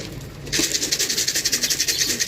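Racing pigeons coo in a steady, rhythmic burble close by after returning from a sprint race, with a soft rustle at the start.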